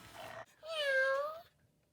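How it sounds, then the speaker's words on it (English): A Joy for All animatronic plush cat, built as a companion toy for seniors, lets out a single drawn-out electronic meow after a brief soft sound, fairly quiet and close, with no one talking. "And then I've got Marmalade, my Joy for All cat. So this is a cat that was made for seniors."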